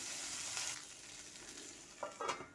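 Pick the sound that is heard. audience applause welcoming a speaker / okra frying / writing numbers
okra frying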